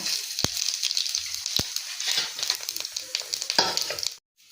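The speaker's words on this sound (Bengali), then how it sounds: "এবার গরম তেলের ভেতরে আমি জিরেটা ফোড়ন দিয়ে দেবো" Cumin seeds sizzle in hot oil in a pan while a Bengali fish curry is being cooked. A close, crackling fry runs throughout, with sharp pops and stirring clicks, before it cuts off at the end.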